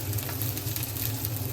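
Chicken drumsticks fry in hot oil, a steady dense crackle and sizzle that holds evenly throughout, close up with no voices.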